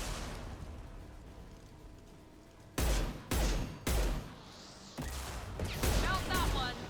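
Rocket launchers fire in Mass Effect 2, landing four or five loud, sharp blasts in quick succession after a quiet opening, each with a short rumbling tail.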